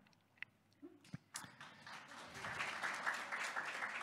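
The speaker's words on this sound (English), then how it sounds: "Thank you for clapping." A few scattered claps start it off, then an audience at a college graduates' presentation breaks into applause that swells and holds steady, moderately distant in a hall.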